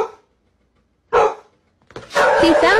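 A dog barks in a household setting, frightened by balloons: a sharp single bark, then a longer burst of loud, close barking after a short pause.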